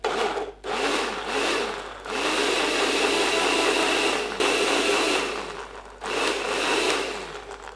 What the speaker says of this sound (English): Now let's go blender.